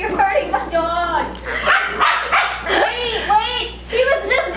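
A corgi barks and yips in an indoor play scene, with short repeated bursts close by while people talk over and between them.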